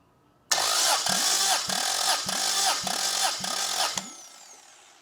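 An engine cranks over on the starter during a compression test on a new motor, about six rhythmic, loud, close chugs, then the cranking stops and the sound decays into a fading ring.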